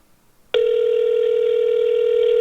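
A telephone starts up suddenly with a steady electronic tone that holds unchanged after a brief quiet moment, loud and close with no talk over it.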